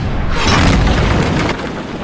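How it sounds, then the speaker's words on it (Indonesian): Tank cannon shot destroying a Panzer tank in a war film, a loud sustained booming explosion with a deep rumbling roll filling the whole moment, close and heavy with no voices. "Nedenov langsung melepaskan tembakan hingga tank Panzer itu pun hancur"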